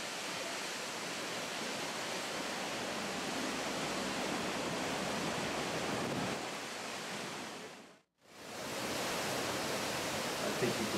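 Rumble of a large waterfall in Norway heard from below, with heavy low-end power. It makes a dense, continuous roar that fills the whole stretch, breaking off only for a brief dropout near the end.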